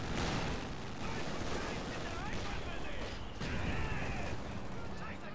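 Quad .50 caliber anti-aircraft machine guns rattle in a Company of Heroes 2 battle, rapid bursts of automatic fire among distant explosions and battlefield clatter, with a voice talking over the action.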